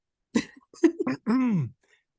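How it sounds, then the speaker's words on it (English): A few hoarse coughs from a nearby person, ending in a drawn-out, voiced throat-clearing rasp, then quiet. "He's just gonna cough, but he'll be back."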